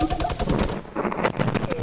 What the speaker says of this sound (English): Are you actually shooting a minigun?